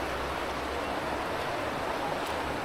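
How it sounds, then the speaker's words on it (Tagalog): A strong river current rushes past, a broad, steady roar of moving water close by with a low rumble underneath, continuous and unbroken with no talking. "Tapos dito, malakas yung agos actually."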